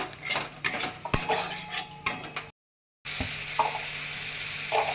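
Metal utensils scrape and clatter in a pan as whisked yogurt and curry sauce are stirred and sautéed over a sizzling frying hiss, with repeated stirring strokes and a brief gap of silence midway.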